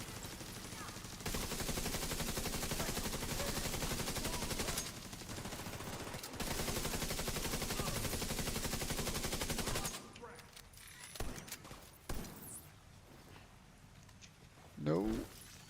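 Sustained heavy gunfire from The Division 2 video game, dense automatic bursts roaring for several seconds with a brief pause, then dropping to scattered quieter shots and clatter.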